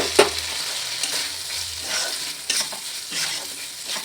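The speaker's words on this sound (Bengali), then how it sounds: "চালটা দিয়ে একটু নাড়াচাড়া করে নিচ্ছি" Gobindobhog rice stirred with cumin and spices in a frying pan for a vegetarian jackfruit pulao, giving a few distinct scraping strokes over a soft, steady sizzle, close and clear with no voices.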